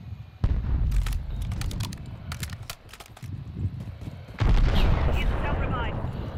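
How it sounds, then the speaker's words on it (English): Rapid bursts of SMG fire from akimbo WSP Stingers in Call of Duty Warzone, a string of sharp close shots with a louder dense burst near the end, mixed with game noise and some speech. "That's why I like these little SMGs"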